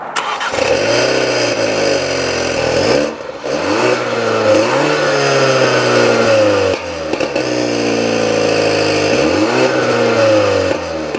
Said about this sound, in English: the center mounted dual exhaust, which sounds really good